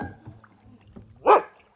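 A single short dog bark sounds near the end, fairly close and loud, after a stretch of quiet low background noise along the water during a kayaking outing in Germany.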